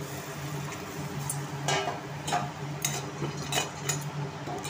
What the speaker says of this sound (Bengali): দিয়ে নাড়তে নাড়তে জুড়ো জুড়ো হয়ে যায়